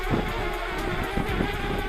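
Strong spring wind buffets a DJI Spark drone in flight, a continuous rough rumble of gusting air and microphone wind noise with a faint motor whine.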